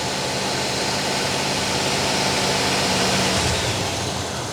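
The 305 V8 of a 1987 Monte Carlo SS, which has an engine knock, runs steadily at about 2,000 RPM as a dense, even mechanical roar heard up close without pause.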